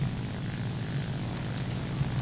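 Propeller aircraft engines drone steadily in War Thunder, with a Stuka and a P-38 in the fight, a continuous low rumble holding at even loudness throughout with no talk over it.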